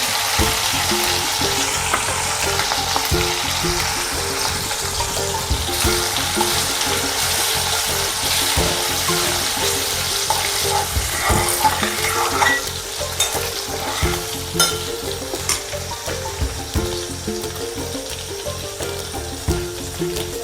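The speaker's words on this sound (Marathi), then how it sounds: "तेल गरम झालेलं आहे त्यामध्ये मी जिरे टाकून घेते लसूण अद्रकची पेस्ट" Cumin seeds and ginger-garlic paste hit hot oil for a butter paneer gravy, producing a steady loud sizzle with scraping stirs throughout, no voices.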